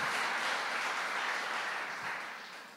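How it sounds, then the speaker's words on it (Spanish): A church congregation claps and cheers in a dense, steady wash of applause that gradually fades toward the end. "Dale un aplauso al Señor y celebra la victoria sobre tu vida."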